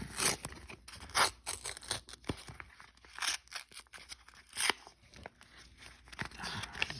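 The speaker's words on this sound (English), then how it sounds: "Envelopes aren't tearing very good." Paper envelope being torn open by hand, a series of uneven crisp rips and crackles in short bursts, close and fairly quiet, with no speech.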